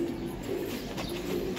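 Soft, low cooing from black-necked Giribaz pigeons murmurs steadily at close range, a gentle repeated throaty call over light ambient noise.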